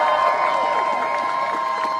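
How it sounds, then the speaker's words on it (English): A rally crowd cheers and applauds for striking Starbucks workers, with Zohran Mamdani and Bernie Sanders present. The noise is a dense, continuous roar of voices and clapping, loud and even from start to finish. "if we can first have a round of applause for the Starbucks workers themselves"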